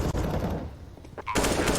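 Rifle fire in a Counter-Strike match crackles in rapid automatic bursts, loud and close, with a brief lull before the shooting resumes; faint commentary may sit underneath.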